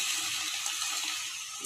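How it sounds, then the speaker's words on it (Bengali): Cooked dal (lentils) pours steadily into a pot, making a continuous close liquid gush and splash that lasts the whole moment, with no talking. "এই যে ডাল ঢেলে দিচ্ছি"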